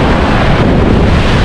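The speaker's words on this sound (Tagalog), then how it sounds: "Oh, grabe yung alon mga master." Strong, rough sea with crashing waves and heavy wind buffeting the microphone, a loud continuous roar with no pauses and no voices.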